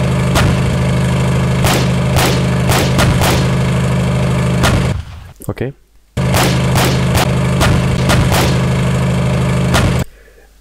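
A dense video game mix of engine drone, 30mm cannon bursts and gunshots plays loud and flat, with repeated sharp shots over a constant roar, cutting out briefly midway before resuming; someone speaks a single word.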